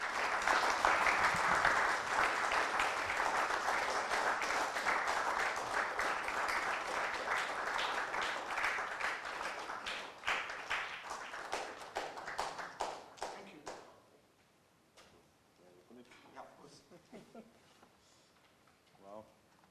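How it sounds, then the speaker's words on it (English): An audience at a coffee table book launch for Shiva Keshavan breaks into dense, sustained clapping that runs strong for about thirteen seconds, then thins to scattered claps before fading. Talk follows once the clapping dies down. "I will ask all the audience to have a round of applause for this"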